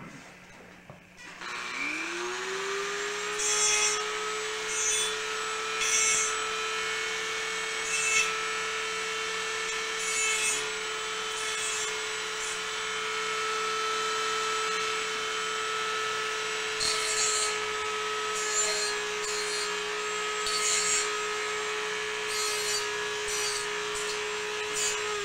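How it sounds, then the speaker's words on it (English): Dremel rotary tool rounding off the sharp edges of a lightsaber part, a steady high whine that holds for about twenty seconds, with gritty scraping bursts each time the bit bites into the workpiece. "I'm going to want to get my Dremel, and I'm going to carefully round these edges off"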